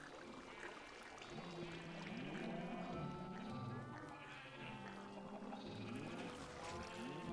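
Sheep bleat repeatedly in Minecraft, mixed with other game animal sounds such as cows and pigs, while someone talks over them throughout.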